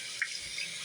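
Cold water runs steadily from a tap into a shower or sink, a faint even hiss with a few small splashes.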